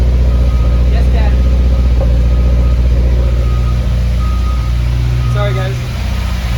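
Running engine that is still misfiring slightly, with a steady loud rumble and faint irregular stumbles in the idle, while a person speaks over it.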